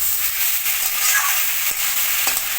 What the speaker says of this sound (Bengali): এবার নেড়ে চেড়ে মিশিয়ে নেবো।